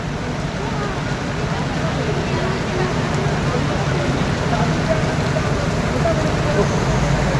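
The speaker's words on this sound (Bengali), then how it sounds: "মুষলধারে বৃষ্টি হচ্ছে।" A heavy downpour of rain makes a dense, constant roar that stays loud and unbroken throughout, with voices faintly mixed into the wash.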